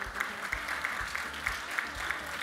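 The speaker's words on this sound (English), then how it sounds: "I'll let you clap." Audience applause at a gala ball, a moderate round of clapping heard under a room's murmur, with regular sharp claps standing out over a low hum.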